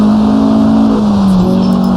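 A race car engine in Assetto Corsa screams at near-maximum RPM, flat out in fifth gear, a loud, steady high-pitched drone that dips slightly in pitch partway through.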